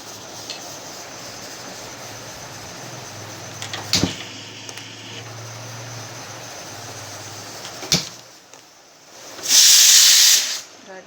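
Water poured into a hot pan of boiled potato curry gives a sharp, loud hiss near the end, after a steady background hiss broken by a couple of short clanks.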